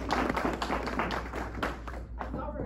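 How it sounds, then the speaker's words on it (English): An audience applauds a special guest speaker at a club meeting, a steady, close wash of clapping filling the room, with a brief dip near the end. "please give our special guest speaker a rousing hand of applause"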